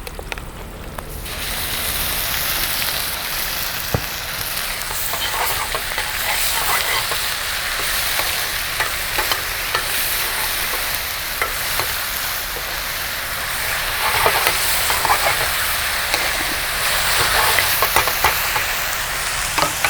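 Green chillies and ginger garlic paste sizzle and crackle steadily in a pan for pepper chicken fry, a loud, continuous close frying hiss with scattered pops and stirring scrapes throughout.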